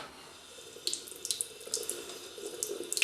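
Water runs from a bathroom tap into a sink during a wet shave, a soft steady stream broken by splashes as hands pass through it, fairly quiet and close.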